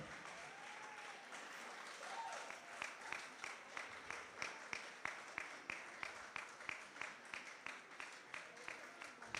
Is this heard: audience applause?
yes